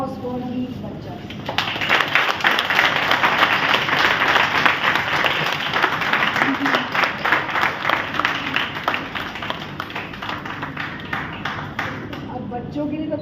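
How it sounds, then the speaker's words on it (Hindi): Loud, sustained applause and clapping from an audience at a Delhi Inner Wheel Club event, cheering children, with a voice over the opening seconds before the clapping swells and continues steadily. "Can we have the loudest applause for these bachas?"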